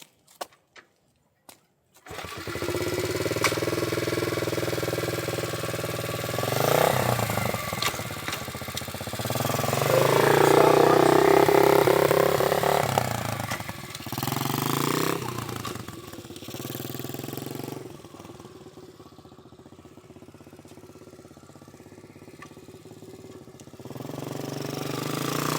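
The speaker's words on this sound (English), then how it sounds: "Give it a start, Bob." Small SuperMach 125cc four-wheeler ATV engine cranking, catching and running at a steady mid-pitched idle with some revving, fairly close. A few brief clicks come first, and a short voice may be heard.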